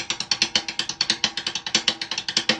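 A six stroke roll on a drum set: rapid drum strokes in a quick, rolling triplet pattern, crisp and fairly close, played alone without any voices.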